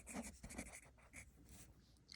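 Pen or pencil writing notes by hand on paper, a run of short scratchy strokes close up and fairly quiet, with a brief pause before the writing resumes.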